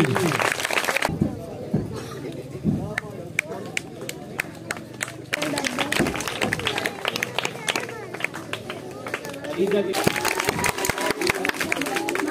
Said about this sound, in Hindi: उमा के लिए भी क्लैपिंग होनी चाहिए।